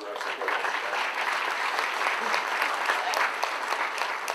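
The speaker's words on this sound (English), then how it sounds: "we still want to give them a round of applause for supporting us today" Steady round of audience applause at an awards luncheon, many hands clapping continuously and fairly loudly throughout with no pauses.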